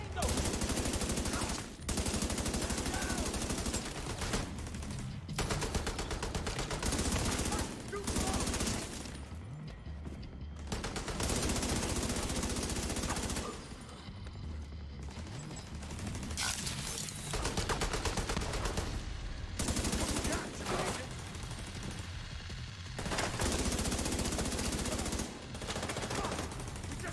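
Dense, nearly continuous automatic gunfire and machine-gun bursts during a video game firefight, loud and close, with brief lulls and shouted voices mixed into the battle.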